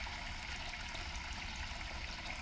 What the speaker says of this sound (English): Water can be heard coming from the well.